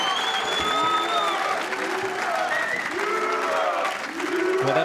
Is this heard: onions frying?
no